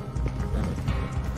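A horse gallops in Red Dead Online, a rapid, steady drumming of hooves thudding close and loud throughout the short stretch.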